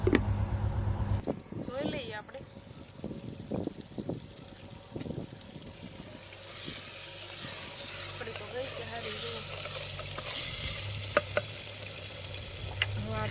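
Masala spices frying in a pan for onion curry, with a steady close sizzle and hiss, clatter of a spoon stirring early on, and a person talking over it.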